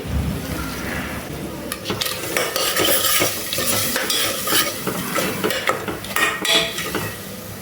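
Tomato puree for a prawn biryani goes into a hot pan, where it sizzles and is stirred with a metal spoon against the vessel, giving continuous frying hiss and scraping clinks.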